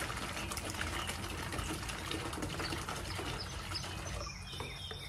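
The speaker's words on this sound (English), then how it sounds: "So I'm gonna pour most of my vinegar in here." Five-percent vinegar pours steadily from a gallon jug into a container, a continuous gushing splash of liquid that carries on for several seconds before easing slightly near the end.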